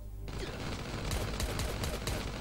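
Game gunfire in Last Day on Earth around a lab turret, a steady run of sharp cracks and bursts over a busy, noisy game background.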